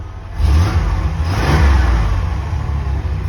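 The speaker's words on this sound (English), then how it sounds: "I guess I'll just give you a little rev." A 1994 GMC K1500 pickup truck engine with stock exhaust revs up loudly close by, rising into a throaty roar and then settling into a rough, steady rumble.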